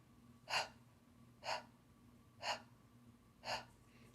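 Four sharp panting breaths come at an even one-per-second rhythm during a singing breathing exercise, close and clear against a quiet background.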